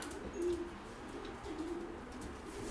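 Pigeons in a loft coo in two soft, low rolling bursts while being hand-fed by their keeper, the calls faint against a quiet hum of room noise.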